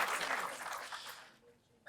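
An interview audience breaks into applause, a short burst of many hands clapping that fades away within about a second, with a voice starting up again at the end.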